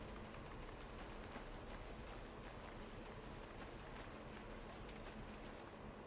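Steady rain falls in the train simulation game Derail Valley, a dense uniform hiss of drops on surfaces that stays constant and fairly quiet throughout, with no talking.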